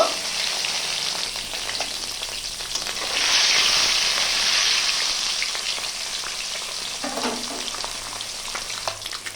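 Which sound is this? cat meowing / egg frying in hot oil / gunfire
egg frying in hot oil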